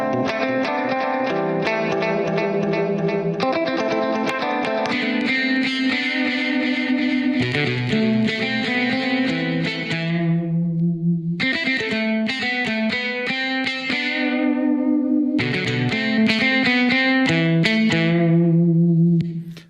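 Layered guitar riff from Riffler software, played with delay and reverb effects, rings out in repeated phrases with a steady chord-and-note rhythm, loud and continuous with brief pauses between sections.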